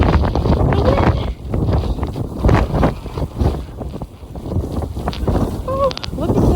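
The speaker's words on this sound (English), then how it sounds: "The wind is crazy." Strong, gusty wind roaring through New York City streets during a heavy overnight snowstorm, buffeting the microphone in loud rushing waves, with brief short tones near the end.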